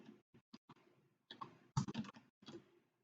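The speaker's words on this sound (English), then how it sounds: "I'm going to type" Short, sparse bursts of key clicks from a computer keyboard, a few quick strokes followed by a denser flurry of typing, close and quiet.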